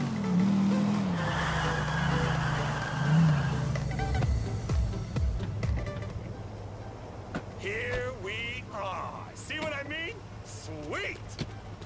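Race cars in Grand Theft Auto IV skid and squeal their tires under a steady engine roar, with a loud screech early on, then game characters talk over the racing sounds.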